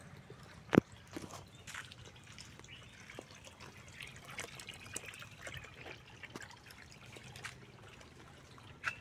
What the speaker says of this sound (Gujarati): આ સાઈડ થોડું વધારે એક્સ્ટ્રા પાણી